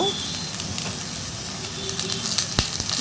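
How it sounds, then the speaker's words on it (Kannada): Whole spices such as cinnamon and cloves frying in hot oil with onion for chicken pulao, giving a steady close sizzle with a few sharp crackles and pops. "ಸ್ವಲ್ಪ ಫ್ರೈ ಮಾಡೋಣ"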